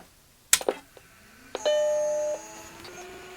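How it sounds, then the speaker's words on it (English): A Macintosh SE computer starts up from a floppy disk. A sharp click and brief clatter are followed by a steady tonal chime or whine that holds for about a second. Faint ticking and whirring follow. No one speaks. "I can hear it booting off the floppy"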